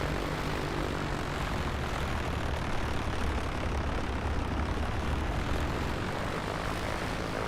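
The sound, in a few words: A2A Comanche plane engine after landing, video game MSFS 2024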